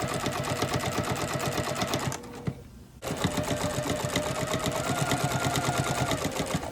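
A sewing machine stitching a fabric purse, a steady fast mechanical rattle running close and continuous, with one brief pause before resuming.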